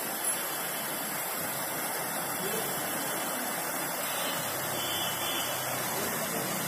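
A waterfall pours near a bridge among high mountains, a constant broadband roar of rushing water filling the scene, loud and steady throughout without a break.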